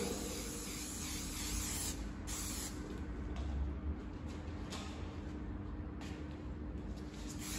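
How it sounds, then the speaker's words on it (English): A continuous close aerosol spray of Scotchgard fabric protector hisses steadily for several seconds on car upholstery, with faint brief breaks and a low background rumble. "So Scotch Guard, you can spray it, comes out like that."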